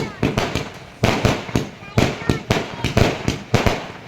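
Fireworks crack and pop at a Diwali-like festival in a temple compound in Sikar, Rajasthan, firing a rapid, irregular string of loud, sharp bangs over several seconds with no voices.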